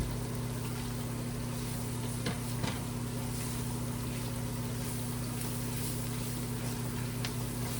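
Pork chops frying in oil in a pan, a constant dense sizzle with a low steady hum underneath, close and unbroken throughout with no talking.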